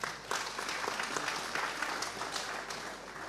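An audience claps together at a Javanese community gathering, a steady, fairly quiet wash of applause lasting the whole stretch without voices on top.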